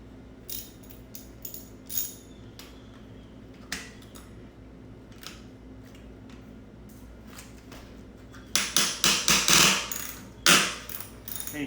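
A T45 Torx socket is lightly hammered into a stripped RockShox Maxle Stealth 15 mm bike thru axle, sharp metallic taps scattered at first, then a quick cluster of closer, louder strikes near the end.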